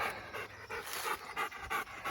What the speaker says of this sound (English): I could hear this guy panting on his way.